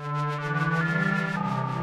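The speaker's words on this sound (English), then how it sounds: "Next one is a ring mod." Prophet Rev2 synthesizer sustaining a dense chord through a ring mod effect, giving a metallic, clangy, gently throbbing tone that stays steady and loud with no talk.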